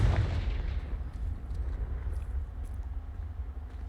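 Loud, rumbling blast of a Confringo fire spell in the Hogwarts Legacy video game, a heavy boom at the start that rolls into a sustained low roar and crackle for several seconds, no voices.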